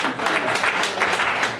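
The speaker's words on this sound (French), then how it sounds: "merci pour ces applaudissements" An audience claps steadily in a meeting hall during a French-language media training workshop in Sikasso, giving a dense, moderately loud burst of applause lasting under two seconds.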